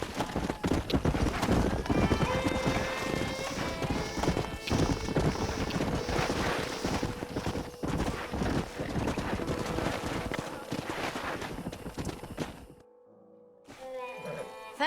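In Red Dead Redemption, a horse trots with steady, close clip-clopping hooves and an occasional whinny, with faint voices in the background until the sound drops away near the end.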